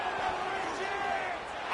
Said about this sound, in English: the noise from this crowd on 3rd and 4